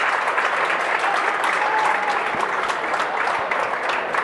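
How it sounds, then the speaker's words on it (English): Basketball crowd at a girls' state final applauds and cheers steadily for an injured player getting up, a dense continuous wash of clapping with faint voices underneath. "As she gets up, the crowd cheering for Sanchez"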